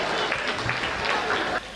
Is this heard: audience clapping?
yes